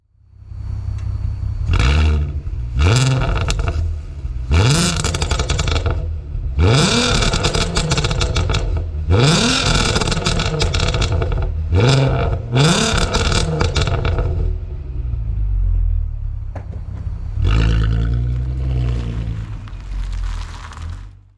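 A 2005 Volkswagen Golf R32 MK5 with a resonator-deleted exhaust revs hard several times in a row, each burst a loud, raspy, rising roar that drops back to a deep idle rumble, heard close up.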